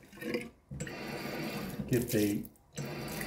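Tap water runs in a lab as a titration flask is rinsed, a soft rushing hiss that starts and stops while someone talks over it.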